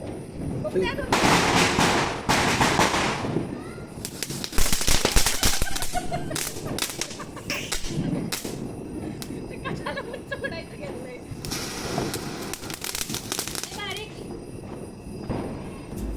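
Firecrackers burst during a Diwali Lakshmi Puja celebration, sharp loud bangs and crackling volleys at irregular intervals, some in quick rapid strings, while people talk nearby.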